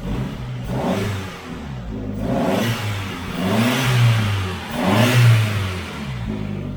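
A turbocharged widebody Volkswagen Scirocco MK1 engine revs up repeatedly in surges, rising and falling in pitch, close and loud, with a whooshing turbo character and no talking.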